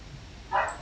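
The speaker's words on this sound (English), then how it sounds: "I'm sorry if you hear barking in the background." A single short, faint dog bark sounds in the background, brief and distant, during a home flight-simulator session of a Southwest 737-800 approaching Phoenix.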